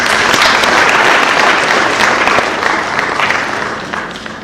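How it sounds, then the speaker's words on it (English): Sustained audience applause fills a conference hall, loud and dense from the start, tapering slightly toward the end with no talk over it. "Please give yourselves a round of applause."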